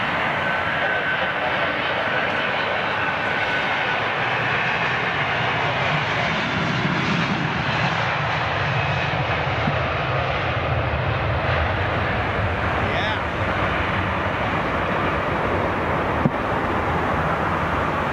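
British Airways Airbus A319 jet departing, a steady broad engine roar sustained throughout at moderate distance, with voices talking over it.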